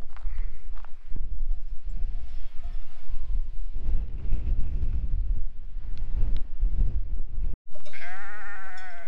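Sheep bleat nearby on a steep mountain trail in the Queyras, over gusty wind buffeting the microphone, with a loud, wavering bleat standing out clearly at the end.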